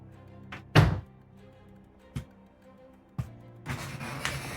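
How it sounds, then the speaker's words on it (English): A Roomba robot vacuum repeatedly bumps a closed bedroom door, producing three or four dull thunks at irregular intervals, the first the loudest, followed by a soft whirring rumble near the end. "My Roomba's trying to come in and clean my room."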